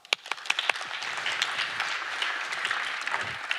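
A small group of people applauds briefly with scattered claps, a short round of clapping that holds steady for a few seconds.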